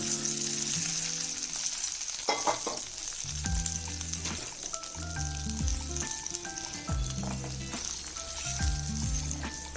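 Cashews and raisins cooking in a hot pan on a switched-off stove, a topping for Sankranthi sweet pongal; a steady crackling sizzle continues throughout beneath light background music, with no talking.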